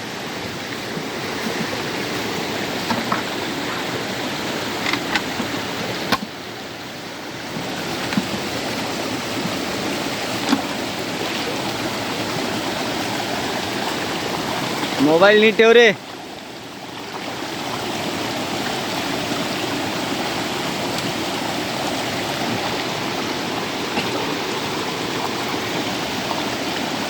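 Stream water flows strongly over a stony bed where crab traps are set. A steady rushing wash fills the whole stretch, with a brief spoken remark and a short sharp knock partway through.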